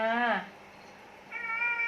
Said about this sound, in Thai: หนูไม่ใช่แมวจรแล้วนะลูกหนูเป็นแมวบ้านแล้วนะ